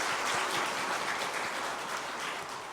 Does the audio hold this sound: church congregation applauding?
yes